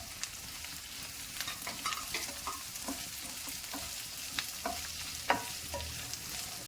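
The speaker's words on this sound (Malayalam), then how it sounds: "ഇതിൻ്റെ കൂടെ ക്യൂബായിട്ട് അരിഞ്ഞ് വെച്ചിരിക്കുന്ന ഒരു സവാളയും കൂടെ ഇടണം." Cubed onion and capsicum sizzle steadily in hot oil for gobi manchurian, with frequent scraping clicks of a spoon stirring the pan, close and continuous with no talking.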